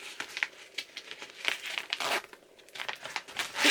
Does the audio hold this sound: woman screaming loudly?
no